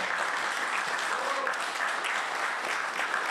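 Dense, steady applause from a concert audience, many hands clapping continuously and fairly loud throughout, with no voices standing out.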